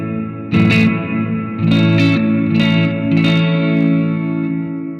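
Electric guitar played through a Positive Grid Spark practice amp with the reverb turned up, a few strummed chords ringing out with a long, washy tail, loud and close with no talking.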